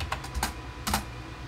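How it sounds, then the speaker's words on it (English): A few quick keystrokes on a computer keyboard as a search is typed, short sharp clicks in two small clusters, close and clear. "So we'll go right here and just type in Sam Edelman loafers."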